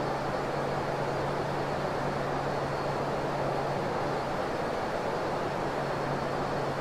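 Steady, continuous drone of a passenger airliner on flight JJ3559 as it lands at SBFI airport, with a constant low hum under a broad roaring hiss and no speech.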